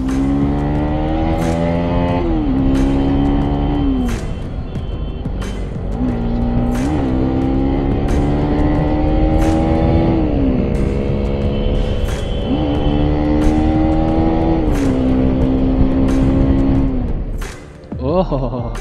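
A motorcycle ridden at full power roars loud and close throughout, its engine pitch climbing again and again through repeated gear shifts, with a brief dip near the end.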